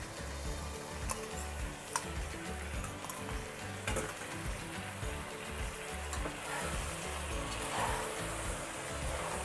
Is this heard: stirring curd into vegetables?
yes